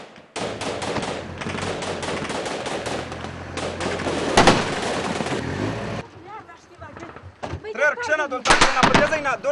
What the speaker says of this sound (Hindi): यहाँ पर रॉकेटों के साथ अभी थोड़ी देर पहले हमला हुआ है और जवाबी फायरिंग का सिलसिला भी जारी